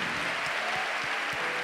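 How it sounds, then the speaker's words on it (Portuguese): A congregation at an evening church service claps together in a dense, continuous patter, steady and fairly loud throughout. "Dá uma salva de palmas a Jesus."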